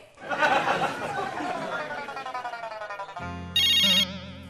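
A phone ringtone chimes with a bright repeating melody near the end, following a stretch of lively chatter and laughter.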